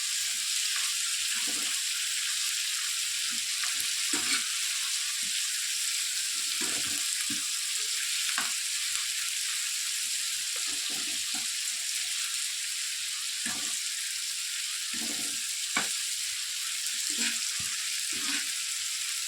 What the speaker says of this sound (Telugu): బాగా కొద్దిగా మెత్తబడేంత వరకు వేయించుకోవాలి